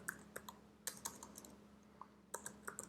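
Someone types code on a computer keyboard nearby, sending quiet key clicks in short uneven bursts with brief pauses between them.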